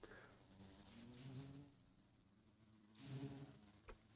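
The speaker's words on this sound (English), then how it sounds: "we'll put a bunch of bees inside here." Bees buzz faintly in a video game bee farm, their drone swelling in two short waves and then fading, with no voices.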